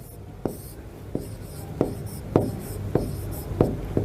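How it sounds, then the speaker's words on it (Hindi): A teacher writes names on a classroom board in a geography lesson on Asia, producing repeated short scraping strokes at a steady pace, close and fairly loud against a low background hum. "लो मैंने यहाँ पे पूरे नाम भी लिख दिए।"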